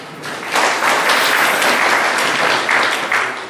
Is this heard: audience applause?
yes